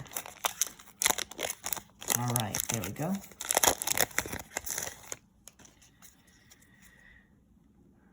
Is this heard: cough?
no